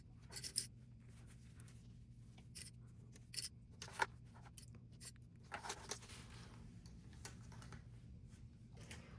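Scissors snip through liner fabric around the zipper of a sewn pencil case, a run of quiet, separate clips spaced unevenly over a low steady background hum.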